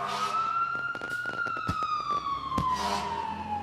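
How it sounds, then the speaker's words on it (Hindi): A fire brigade siren wails outside in an advert, a single rising and falling tone sweeping slowly, loud and sustained, with thumps and clatter scattered beneath it. "बाहर वो फायर ब्रिगेड, कुछ हुआ है क्या?"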